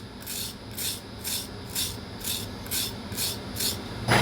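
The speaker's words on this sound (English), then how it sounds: "And then we're going to deburr it." Wahl Arco 5 in 1 clipper blade being deburred after sharpening, a steady rhythmic rasping of about eight even strokes over a low background hum, close and moderately quiet.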